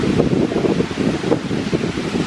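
Strong wind gusts roar steadily across a resort pool area in Belize, a loud broadband rush with surging swells and no voices.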